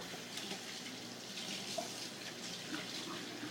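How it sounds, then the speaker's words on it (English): Steady rush of water running from a tap while hands are washed at a sink, continuous and close, with no talking over it. "Let me wash my hands real quick."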